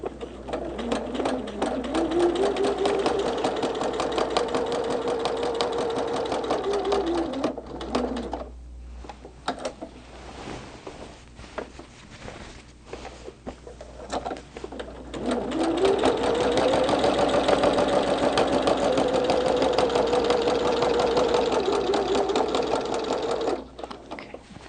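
A sewing machine stitching a Christmas tree quilt hums steadily at close range in two long runs split by a brief pause, its needle chattering rapidly with no talking over it.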